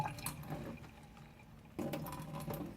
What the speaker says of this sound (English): So we drain the cabbage